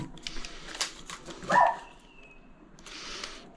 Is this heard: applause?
no